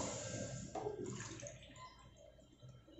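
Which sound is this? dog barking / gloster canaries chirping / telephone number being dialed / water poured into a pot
water poured into a pot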